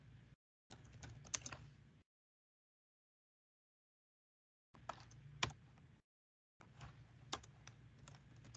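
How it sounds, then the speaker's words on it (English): Fingers type a message on a laptop keyboard in Microsoft Word, quick bursts of soft clicking keystrokes close by, broken by a couple of silent pauses. "You can type your message."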